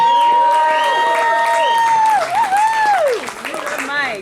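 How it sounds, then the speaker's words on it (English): A comedy club crowd gives a round of applause for the show's organizer, a dense steady clapping mixed with cheers and a long held tone over it, fading near the end. "how about a nice round of applause for Mike for putting on this show for you guys"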